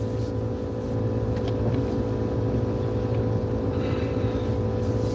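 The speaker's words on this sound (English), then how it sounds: "This car is an older car, so it takes a moment to warm up. As you can tell by the sound, sounds like a cow" An older car engine warming up at idle, a steady low droning rumble that continues throughout, close by and fairly loud, with faint rattles on top.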